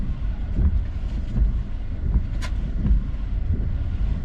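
Steady wind buffets the microphone during a storm chase, a constant low roar with gusty swells and no voices.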